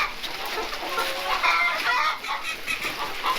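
A backyard flock of hens and roosters clucks busily at treat time as a cold snap approaches, a close, continuous chatter of overlapping clucks with no one speaking.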